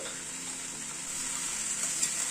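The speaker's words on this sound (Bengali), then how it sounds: "সব দিয়ে আবার একটুখানি নাড়াচাড়া করে নিচ্ছি।" Cooked chickpeas and grated coconut stirred in a hot pan, a quiet steady sizzle with faint scraping of the spoon, close and unbroken.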